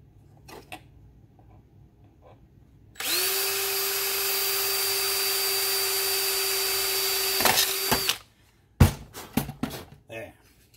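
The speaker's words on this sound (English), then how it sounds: "Give that one a little drill." A power drill bores into a crack in an aluminum chainsaw casting, running steadily and loudly for about five seconds with a rising whine before stopping, followed by a few handling clicks and knocks.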